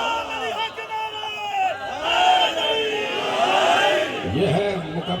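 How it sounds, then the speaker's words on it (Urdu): A large crowd at a Muharram majlis chants religious slogans in unison, loud rising voices sustained over several seconds with an echoing, reverberant quality. "سلیمان علی کے نعرے"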